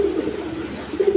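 A Kalari Rajgolla pigeon gives a short, close, low cooing call, with two soft throaty pulses.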